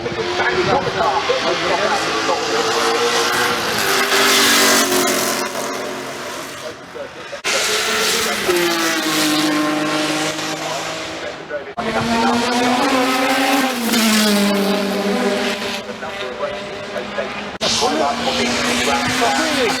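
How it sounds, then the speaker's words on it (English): A 2001 Honda V-twin World Superbike races at Goodwood, its loud, deep engine roaring up through the gears in repeated revving surges as it passes close by. "it is 2001 V-twin Honda, built by Honda to compete with Ducati and World Superbike"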